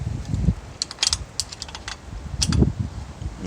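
A wrench clicks and clinks against a bicycle bolt up close, giving a few short metallic ratchet-like bursts in two clusters, with low handling thumps and light rustle between them.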